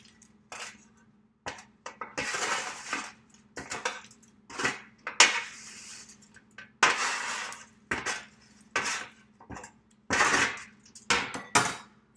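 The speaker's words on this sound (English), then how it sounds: "So now I'm just going to put them in this bowl." Homemade keto chips being put into a bowl with cutlery: a series of short, crisp clinks and rattles of pieces dropping against the dish, coming in irregular bursts close by with no talk.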